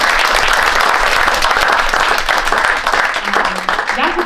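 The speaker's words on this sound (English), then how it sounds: "Can we just give our panelists a round of applause?" An audience applauds panelists at a panel event, dense sustained clapping that fills the whole stretch and fades slightly toward the end, with voices faintly audible beneath.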